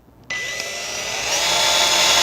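A power drill bores holes into a walnut blank being prepared for mounting on a lathe, a sudden start rising into a steady high whine that strains slightly as it cuts, close and alone.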